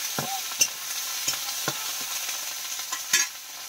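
Chilli seeds sizzle in a kadai with onion, green chilli, ginger and garlic paste for chicken curry, a constant close hiss punctuated by sharp scraping strokes of a spoon stirring.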